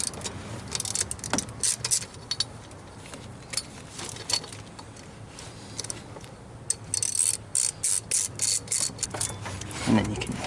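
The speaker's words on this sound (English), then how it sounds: "Get rid of this 10mm bolt that holds this wiring harness bracket on." A ratchet works on a 10mm bolt holding a wiring harness bracket on a Chevy 5.3 Vortec LS engine: bursts of quick clicking and metallic ticks, with faint tool clatter, near and moderate.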